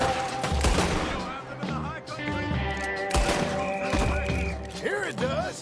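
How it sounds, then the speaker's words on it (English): Gunfire from guns in the Red Dead Redemption 2 epilogue, with repeated sharp shots and bursts spread through the clip over a busy mix of game music and voices. "What are those guns they have?"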